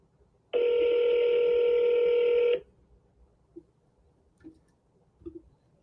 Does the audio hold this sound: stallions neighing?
no